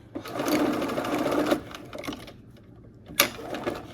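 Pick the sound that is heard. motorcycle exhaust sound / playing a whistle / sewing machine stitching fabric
sewing machine stitching fabric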